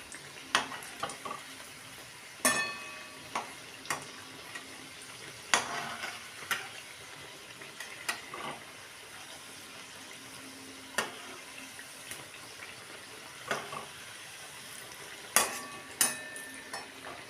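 Khaja pastries deep frying in oil, a steady soft sizzle broken by scattered sharp clicks and taps of utensils, with occasional watery splashes, close by and fairly quiet, no talking.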